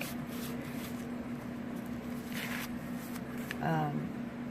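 Dictionary paper rustles and crinkles as it is handled in a handmade journal, soft papery brushes and a brief flutter, faint beneath someone speaking.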